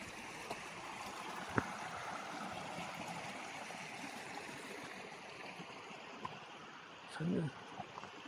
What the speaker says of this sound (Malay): Di sini ada bunyi-bunyi sungai.